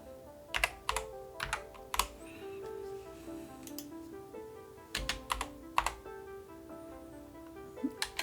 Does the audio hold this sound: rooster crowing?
no